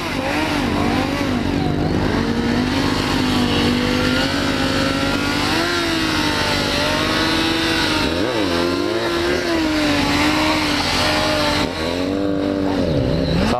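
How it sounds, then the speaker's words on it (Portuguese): A Kawasaki Z1000 motorcycle revs hard during a wheelie as it leaves a moto and car show, its engine wailing loud and close with rising and falling pitch and crowd noise around it. "Olha o grauzinho da Z1000 aí"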